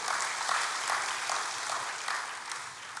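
Applause from a congregation during a church service, a steady wash of clapping at moderate level, fairly even throughout with a few slightly stronger swells.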